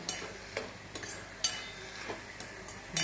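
Colocasia stem thoran being stirred after a drizzle of raw coconut oil: soft, repeated scraping strokes in a pan with light, faint sizzling, close and quiet.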